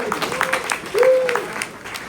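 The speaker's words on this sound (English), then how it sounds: "Round of applause for Tabird." A demo night audience of startup founders and guests applauds in a short burst while a presenter's voice carries over the clapping.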